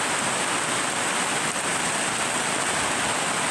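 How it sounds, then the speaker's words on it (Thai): Heavy rain, the first of the year, pours down steadily in a steady roar of dense hiss with no breaks. "น้ำระบายไม่ทันค่ะเพราะว่าฝนตกแรงมากๆเลยค่ะ"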